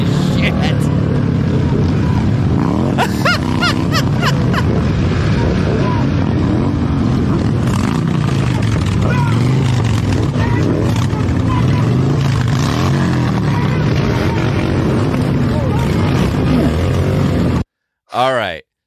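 A group of motorcycles roars past a car on a road, with loud engine noise rising and falling throughout and people talking over it, cutting off abruptly near the end.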